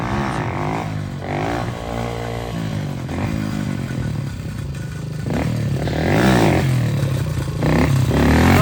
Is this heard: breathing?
no